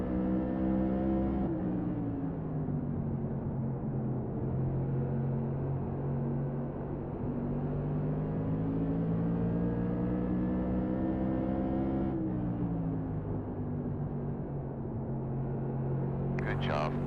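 A NASCAR Modified race car engine in the iRacing video game roars steadily at high revs, close and loud. Pitch dips briefly at two gear changes, then climbs again.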